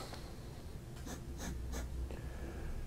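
Late-1950s Conway Stewart Model 106 fountain pen with a wet-writing nib scratching across paper, a faint, close, dry scratch in a few short strokes over a low background hum.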